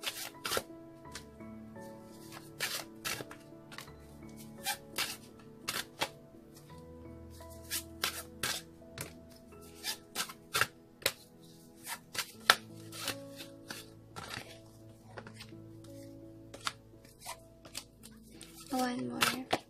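Tarot cards being shuffled by hand, a long run of crisp riffling and slapping bursts in uneven rhythm, close and clear, with a voice speaking intermittently over the shuffling.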